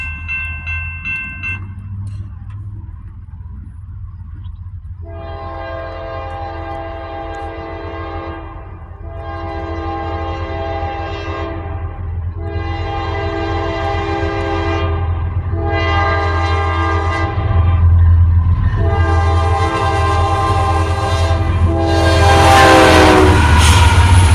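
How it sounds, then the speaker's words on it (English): A train rumbles past close by in Northeast Ohio, sounding a loud horn in several long blasts, with rail clatter building toward the end. "the first train of the day came"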